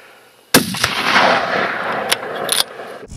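A 7mm-08 rifle fires once while hunting red deer, a sharp loud crack at the start followed by a long rolling echo and a couple of fainter thumps trailing off.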